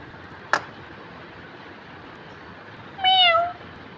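A domestic cat gives a single short meow near the end, clear and close against a quiet room hiss, preceded by one brief knock or click.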